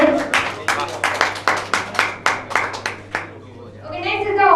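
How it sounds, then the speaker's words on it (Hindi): A small quiz audience claps for a correct answer at a quiz event, roughly a dozen distinct, fairly close hand claps in an uneven rhythm before they trail off, followed by a brief voice at the end. "वाह जोरदार तालियां हो जाएगी के लिए।"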